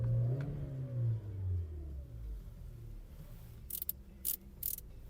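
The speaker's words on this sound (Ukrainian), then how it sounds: "Давайте запустимо двигун." A Volkswagen Golf V 1.6 MPI engine with automatic transmission turns over and settles into a steady low rumble, with a few sharp clicks and taps near the end.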